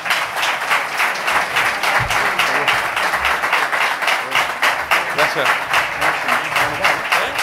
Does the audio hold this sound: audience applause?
yes